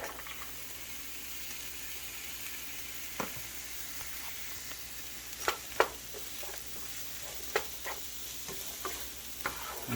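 White onion and garlic sizzle steadily in olive oil in a pan over medium-high heat, a constant crackling hiss broken by occasional sharper pops and stirring clicks.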